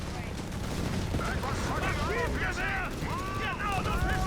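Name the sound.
30 cal machine guns firing in Company of Heroes 3 (video game)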